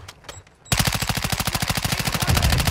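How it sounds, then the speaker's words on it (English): Call of Duty DMZ gunfire on Ashika Island, a fast, evenly spaced burst of automatic shots starting abruptly after a few faint clicks, loud and close. "You are taking effective fire."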